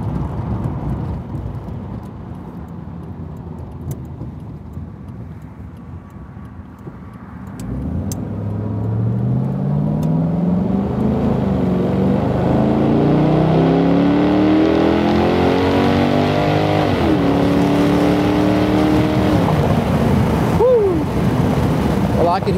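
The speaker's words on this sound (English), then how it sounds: "It's got a nice exhaust note, but I'm sure if you get on it," A Revology 1966 Ford Mustang convertible rumbles at low speed and then accelerates hard, its exhaust note climbing steadily through the gears, loud and close, with a faint voice early on.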